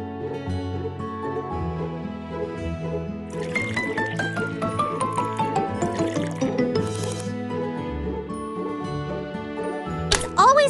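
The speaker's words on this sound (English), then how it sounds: "You can tilt or tap to pour." A cartoonish pouring effect from a kids' baking video game, as egg and milk are tipped into a bowl, with soft gliding, sloshing tones over steady cheerful background music that continues throughout.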